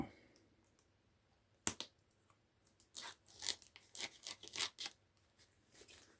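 A blunt knife scrapes and slices through crinkly packaging up close, irregular crunchy cuts and tearing bursts coming in quick clusters after a quiet start.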